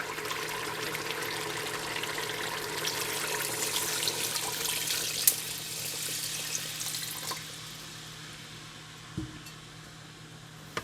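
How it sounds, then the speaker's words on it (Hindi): Water poured into a pot of beef nihari with a steady rushing splash that fades toward the end, close and fairly quiet, with a small clink near the finish. "4 कप पानी ऐड कर देंगे।"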